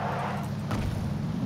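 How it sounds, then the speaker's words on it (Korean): A car engine in a battle royale video game drones steadily, a low continuous rumble at moderate distance, without a break and with no voices over it. "차 소리"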